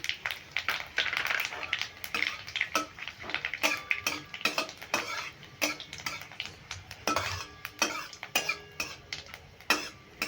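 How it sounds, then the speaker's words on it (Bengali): Panch phoron seeds frying in oil, with a rapid, irregular string of sharp crackles and pops spluttering close up over a low background, steady throughout, with no speech. "ফোড়নটা খুব ভালো করে ভেজে নিলাম"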